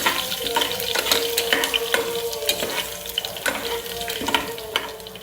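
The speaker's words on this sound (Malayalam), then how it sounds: "ഇതിലോട്ട് നമുക്ക് അരിഞ്ഞു വെച്ചേക്കുന്ന ഇഞ്ചി, വെളുത്തുള്ളി ഇത് രണ്ടും കൂടെ ചേർത്ത് ഒന്ന് ഇളക്കി കൊടുക്കാം." Chopped ginger and garlic stirred into hot oil with mustard seeds for a potato curry: a continuous close sizzle broken by repeated scraping spoon strokes in an uneven rhythm.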